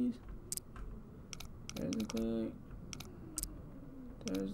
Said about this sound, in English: you gotta listen for the little click.